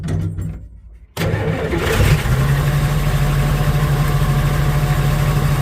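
A custom-built wasteland wagon car engine cranks and catches after a quiet start, then settles into a loud, steady idle with a constant low rumble, close to the microphone.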